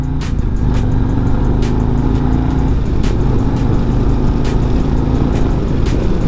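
A 2024 Harley-Davidson Road Glide in sport mode pulls hard up through the gears to highway speed, its loud steady engine drone mixed with heavy wind rush and no talk.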